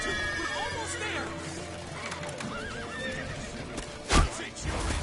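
A horse neighs and whinnies in rising, wavering calls amid hoofbeats, with a loud thump near the end and voices in the background.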